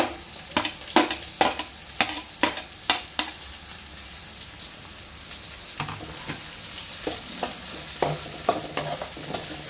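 Onions and green chillies sizzle in hot oil in a pan, a constant soft frying hiss broken by a series of sharp scraping strokes of a spoon stirring, in irregular bursts, close up.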